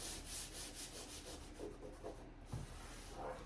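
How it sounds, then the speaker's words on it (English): A hand rubs across the bare metal body panel of a 1974 Chevrolet Suburban during bodywork, giving a soft, steady, close-up dry rubbing sound in short strokes. "by running your hand on there, if you feel in these little imperfections"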